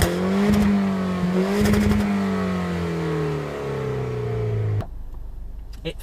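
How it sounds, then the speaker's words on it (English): A Citroen DS3 Racing Cabrio hot hatch with its roof back gives a loud, raspy engine note that holds and then sinks in pitch as the revs fall. A few crackly bursts come early on, and the sound cuts off abruptly near the end. "you can hear all the rasps of the turbo and the pops and bangs from the"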